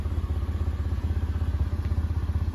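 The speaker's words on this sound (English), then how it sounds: "Car starts, sounds good, runs fine" Mitsubishi Outlander engine running at idle, a close, rhythmic low chugging pulse with light clatter, steady and unbroken throughout with no voices.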